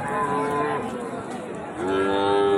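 Cattle at a livestock market, small bulls and heifers including Sahiwal and local breeds, moo in long low calls, one rising again near the end, close and loud over faint crowd chatter.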